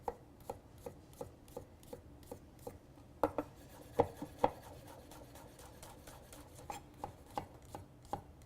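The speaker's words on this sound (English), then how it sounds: "I'm going to give it a rough chop, just so it's a little easier to break down in the food processor" Peeled garlic rough-chopped with a knife on a cutting board: a steady run of crisp, close knife taps, irregular in spacing with a few louder chops near the middle, no talking.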